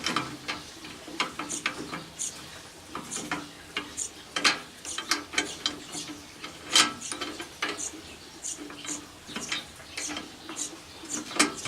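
Ratcheting clicks and metallic ticks from a wrench working bolts on an old painted rice mill being dismantled, irregular bursts of close, sharp clatter with brief pauses between turns.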